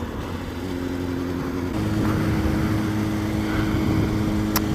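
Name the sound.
Honda CBR600F4i motorcycle riding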